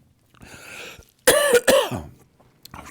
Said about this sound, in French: Je tousse un bon coup, comme ça,